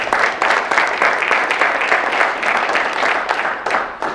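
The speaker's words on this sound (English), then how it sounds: "Let's give our panel a round of applause." An audience at a sportsmanship panel discussion gives sustained, dense applause for the panel, steady and fairly loud throughout.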